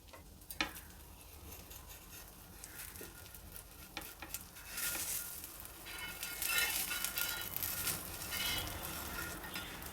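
Cucumber dosa batter cooking on a hot pan, a steady soft sizzle with faint ticks and light scraping, fairly quiet and without talk.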